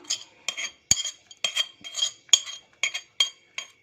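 A spoon stirs roasted cashews, raisins, cardamom and coconut into sweet pongal made with native rice, giving about ten sharp clinks against the pot in a steady rhythm, close and fairly quiet with no voices.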